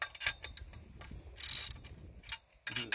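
Socket wrench ratcheting to tighten bolts on a vineyard crossarm fitted to a rolled edge line post, giving short quiet bursts of clicking with gaps of near silence between the turns.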